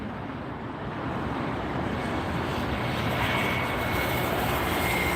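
A WestJet airliner takes off at LAX, a broad, steady jet roar that swells slightly as it climbs, with wind buffeting the microphone and no one talking.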